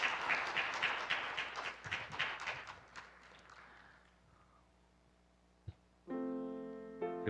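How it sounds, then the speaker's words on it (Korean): A church congregation applauds a newly baptized infant during an Easter service, a dense crackle of many clapping hands that fades over about four seconds into a quiet room, followed by soft organ-like tones. "다시 한번 박수로 축복해 주십시오"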